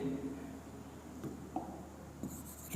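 Chalk or marker scratching across a board during a maths lesson, quiet and close, with a few short strokes and taps in a room with no talking.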